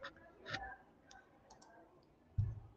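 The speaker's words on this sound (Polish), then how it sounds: "Klikam w kamerkę, klikam na twarz." A computer mouse clicks a handful of times, sparse and close, with short gaps between the sharp taps and a faint voice in the background.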